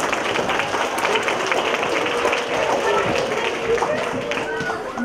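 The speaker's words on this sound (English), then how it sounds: "let's start the show by giving everybody a round of applause" A school concert audience fills a hall with dense, sustained applause for the student performers, a busy crowd wash of clapping with some mixed-in voices and chatter underneath.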